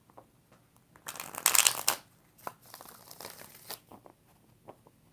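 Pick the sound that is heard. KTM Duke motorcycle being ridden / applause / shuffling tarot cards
shuffling tarot cards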